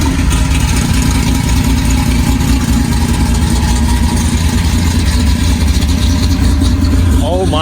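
A 1976 Porsche 911 Turbo engine runs steadily and loudly up close, a continuous rough mechanical drone, with some voice-like sound near the end.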